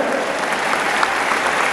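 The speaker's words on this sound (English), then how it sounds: "A nice round of applause for the two favors here" Steady applause from a live jousting show audience fills the space, a dense, even wash of clapping that continues without pause from start to finish.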